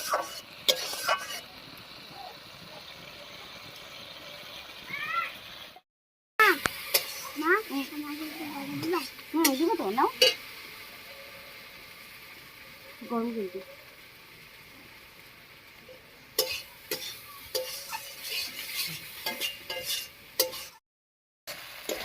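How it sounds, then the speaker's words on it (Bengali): Potatoes frying in spice masala for a duck-egg and cabbage dish, stirred with scrapes and clinks against the pan over a soft sizzle, with a voice talking through parts of it. "আলুটা দিয়ে একটু নাড়িয়ে নিলাম এবার আর একটু জল দিয়ে কষিয়ে নেব"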